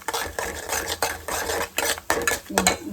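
Semolina prasad stirred in a metal pot over a low flame, a spoon scraping and clinking in quick repeated strokes, close and fairly loud with a faint sizzle underneath.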